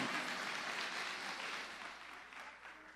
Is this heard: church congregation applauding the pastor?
yes